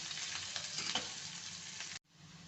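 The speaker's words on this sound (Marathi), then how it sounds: "कांदा ना चांगला लालसर होईपर्यंत असा परतायचा" Chopped onion sizzling in hot oil in a pan while being sautéed until reddish for a buttermilk chutney tempering, a steady close hiss that cuts off abruptly near the end and then resumes more quietly.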